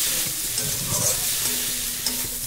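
Egg noodles with onion and spices stir-frying in a pan, a steady close sizzle with scraping stirs running throughout, no voices.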